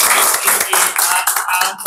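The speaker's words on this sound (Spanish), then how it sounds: "Así que vamos a darle un aplauso, muchachos." An audience claps after a university philosophy lecture, giving a brief burst of dense, steady applause that fills the room from start to finish.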